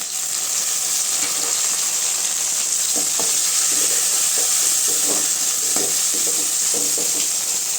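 Tomatoes sizzle and fry in a pan over sautéed onions for a soya chunk gravy, a steady close crackle broken by occasional clinks and scrapes of stirring.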